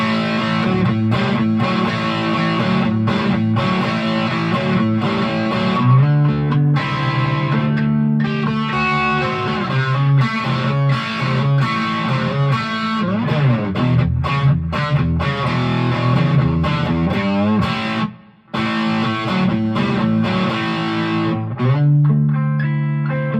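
An electric guitar on the bridge pickup plays through a Greer Gorilla Warfare distortion overdrive pedal with all tone controls up, giving loud, sustained chords and riffs for over twenty seconds, cut by one short pause near the end.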